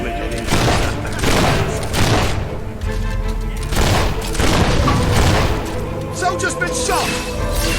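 Soldiers are shot during a battle in Fable 3. Loud volleys and booming shots come in rhythmic waves, mixed with shouting voices throughout.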